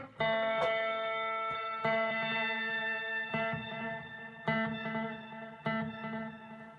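An electric guitar plays through a Headrush tape echo effect, sustained chords repeating and decaying in warbling, wavering echoes, with a fresh strum roughly every second and a half.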